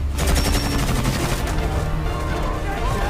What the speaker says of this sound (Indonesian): ia pun menyuruh yang lain untuk melepaskan tembakan ke arah para anak buah Owen